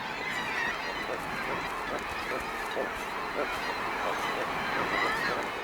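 A steady, noisy chorus of puffin calls in Wales, many birds croaking and groaning at once in a continuous colony din.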